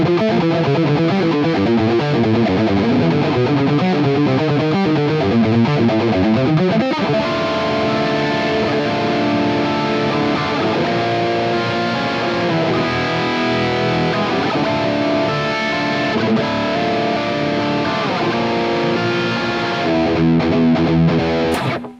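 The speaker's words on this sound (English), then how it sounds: "So this is just a raw capture of the amp" A Mesa Boogie JP-2C amp on its high-gain third channel, with mids and bass lowered and presence raised, carries a dense, saturated distorted electric guitar riff, loud and continuous with sustained chords throughout.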